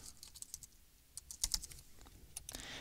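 Quick, light clicks of typing on a computer keyboard, close and fairly quiet, coming in short irregular bursts with brief pauses between keystrokes.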